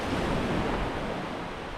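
Ocean waves wash on a beach at Fitzroy Island, a steady broadband surf rush with some wind noise and no voices.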